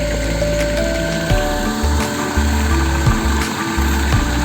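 An engine-driven water pump runs at 2,300 RPM, feeding an overflow at a fingerling pond. It gives a loud, constant engine drone with a low throbbing pulse and periodic surges, close by, with no voices.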